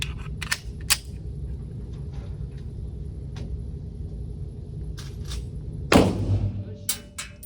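A Sig Sauer P365 FUSE pistol fires one loud, sharp shot that rings out and decays over a second, preceded by a few faint clicks and handling sounds against low background noise.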